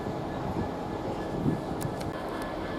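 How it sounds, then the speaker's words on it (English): A Grand Central service from Bradford Foster Square to London King's Cross pulls slowly into Doncaster station, a steady low rumble of the train with faint squeals near the end, no talking. "Now we're slowly getting in Grand Central service, which is from Bradford Foster Square to London King's Cross with the 12:09 service"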